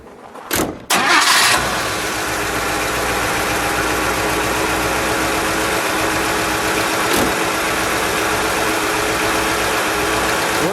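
A 1955 Chevrolet Bel Air Nomad engine with an oil bath air filter cranks briefly, catches with a roar, then settles into a steady, smooth idle close by.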